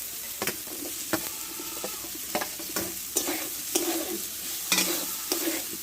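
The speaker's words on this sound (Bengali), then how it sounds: "মশলাটা ভালো করে কষে নিয়েছি, এইবার কাঁঠালগুলো আমি ঢেলে দেবো" Jackfruit pieces frying in spiced oil while being stirred, with a soft sizzle under repeated sharp scraping strokes of a spoon against the pan at an irregular rhythm, no talking.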